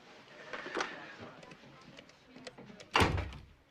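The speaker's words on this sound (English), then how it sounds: "Close the door." An office door swings shut with a single loud thud near the end, following quiet room tone and faint movement.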